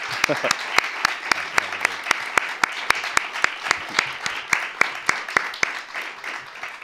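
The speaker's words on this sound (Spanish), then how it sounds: "como ha acabado, pues le podemos aplaudir" A small audience at a talk on the classics claps after a poetry recitation, with sparse, distinct handclaps standing out sharply over a softer bed of applause throughout.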